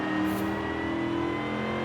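A supercharged V8 in a 2003 Ford F-150 SVT Lightning revs in Forza Horizon 5, a deep engine note with a steady whine riding above it, loud and sustained for a moment.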